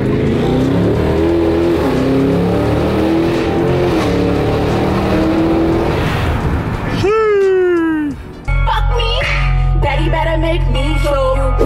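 A Dodge Hellcat Redeye running low on fuel accelerates hard, its loud supercharged engine roaring up through the gears with sharp pitch climbs and a brief shift gap, the driver speaking over it.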